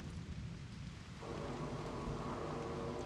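Thunderstorm in the video game SEASON: A Letter to the Future: steady rain hisses over a low, rolling thunder rumble that swells partway through, all fairly faint with no voices.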